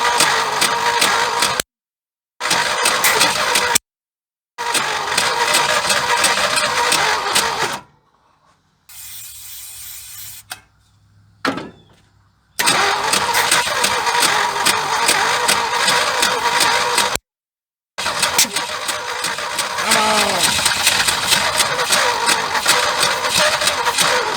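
An abandoned 1976 Ford F-150 engine cranking over and over, trying to catch after sitting for decades, with loud repeated bursts of starter churn broken by short pauses.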